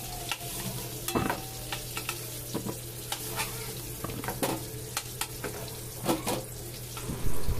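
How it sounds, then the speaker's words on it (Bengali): Potatoes mixed with salt and turmeric fry in oil in a pan. A steady close sizzle runs throughout, with frequent scraping and clinking stirring strokes on top. "নুন হলুদটা আলুর সাথে মিশিয়ে নিয়ে আলুটা ভেজে নেব।"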